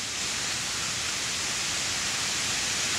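Steady, full roar of a large monsoon waterfall near Vansda, Gujarat, a continuous close wash of falling water with no pauses.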